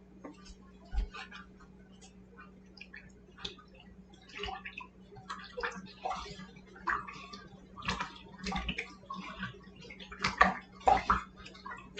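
Grits with salt are stirred in a crockpot, soft scraping and wet clicking from a spoon against the pot in irregular bursts over a faint background hum, fairly close and quiet.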